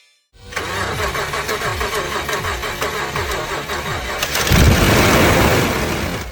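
A restored Toyota Land Cruiser's engine cranks and fires after a short silence, settling into a loud, close rumbling idle, then swells into a heavier roar as it revs near the end.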